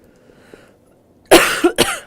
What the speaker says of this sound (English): I should stop coughing into the mic